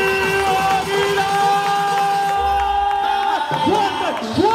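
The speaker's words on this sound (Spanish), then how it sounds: "¡Fuerte el aplauso directamente desde Venezuela!" A crowd at a diamond-level business gathering in New Jersey cheers and whoops loudly, with shouted voices and sustained tones over a steady roar of applause.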